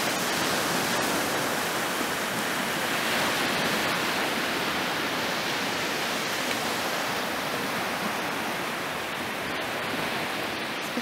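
Surf waves on the Black Sea make a dense, steady wash of broadband noise that stays loud and continuous without distinct breaks, with no voices present.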